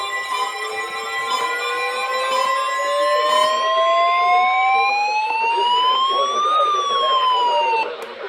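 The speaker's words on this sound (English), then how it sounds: "the warning alarm would have been followed by an actual watch or warning" A NOAA Weather Radio warning alarm tone sounds during a required weekly test from Cleveland station WXJ53: a loud, steady, piercing tone that overlaps other rising and falling electronic alarm tones for several seconds.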